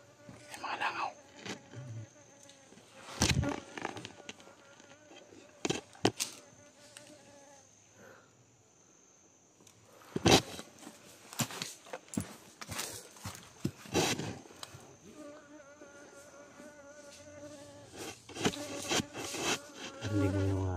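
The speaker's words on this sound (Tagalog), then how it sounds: "Mga langaw, tol." Flies buzzing around, a thin insect drone that rises and fades across the scene, broken by loud bumps and thuds and occasional voices in a tense game setting.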